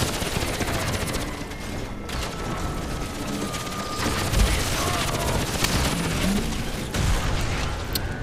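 Rapid automatic gunfire from a laser weapon in the shooter game Crysis, sustained bursts and mechanical clatter running throughout, with occasional booms and a voice talking over it.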